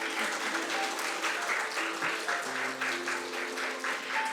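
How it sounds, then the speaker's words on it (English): An audience at an international parliamentary budget forum's opening ceremony gives a big, sustained round of applause after a group photo, with even, dense clapping throughout and faint voices mixed in. "please give them a big round of applause"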